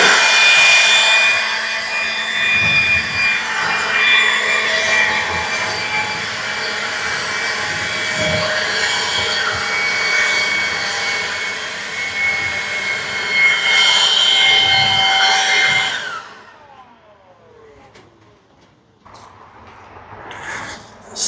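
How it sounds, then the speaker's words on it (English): A blower cleans metal roof panels on a firewood shed build, a loud continuous roaring whoosh with shifting pitch that stops near the end, leaving quieter scraping and handling noises. "let's use the blower again"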